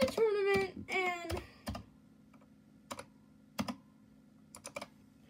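A computer keyboard being typed on with a few scattered, sharp key clicks spaced out over several seconds, close and crisp, after a person talks briefly at the start.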